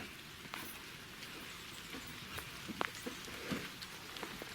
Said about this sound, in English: The rain's come back, unfortunately.